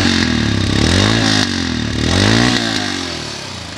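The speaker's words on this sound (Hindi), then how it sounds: "चलते हैं towards the exhaust note of the motorcycle now" A 2022 Royal Enfield Scram 411 motorcycle revs through its exhaust, a loud, close, throbbing note that rises and falls in pitch through repeated throttle blips with no talking.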